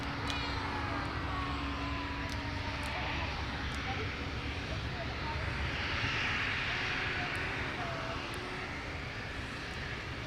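An Embraer airliner on final approach at Minneapolis airport gives off a continuous broad jet roar at moderate distance, steady throughout, with faint radio-like voices underneath.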